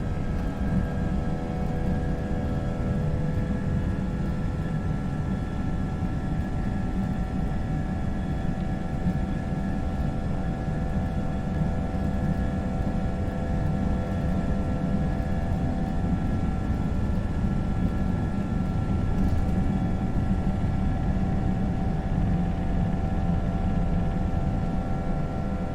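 An airliner's jet engines hold takeoff thrust in a flight simulator as a constant deep roar with a steady tonal whine, unbroken for the whole stretch, with no voices over it.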